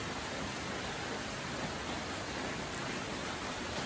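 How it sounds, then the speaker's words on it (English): Steady rain falls outdoors, a dense, even hiss of drops on surfaces that stays constant and fairly close throughout, with no voices over it. "Can you hear that rain?"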